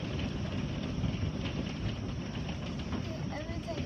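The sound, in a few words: hail hitting a house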